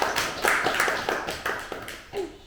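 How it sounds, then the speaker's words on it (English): Wedding guests at a hotel ceremony clap, a short burst of scattered, uneven handclaps from a small group close by. "Round of applause for Mary."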